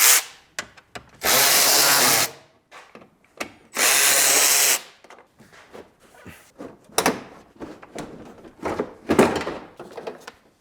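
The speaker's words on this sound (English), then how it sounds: "Need to remove a few 8mm bolts." Power tool removing 8mm bolts from the bumper of a V12 BMW E31 850i, two loud sustained bursts of whirring separated by pauses, then clanks, clicks and handling noises close by.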